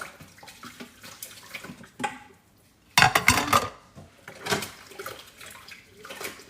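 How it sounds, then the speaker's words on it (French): Dishes are washed by hand at a sink: plates and cutlery clatter in uneven bursts over splashing, running water, close by, with one short quiet pause. "c'est long comme vaisselle"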